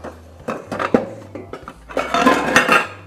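A pan and a pot are handled in a home kitchen, giving a string of irregular metallic clanks and clinks, some sharp and close, others duller, with a denser clatter toward the end.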